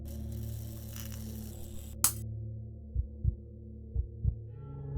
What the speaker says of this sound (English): Oh, a heartbeat sound.